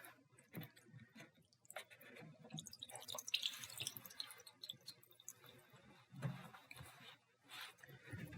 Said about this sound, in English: Little water is going to come out.